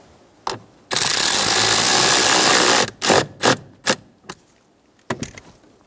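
A power tool tightens the vent screw during an HVAC blower motor replacement on a 2000–2007 Ford Focus. One loud sustained whir of about two seconds is followed by several short, sharp bursts with brief gaps between them.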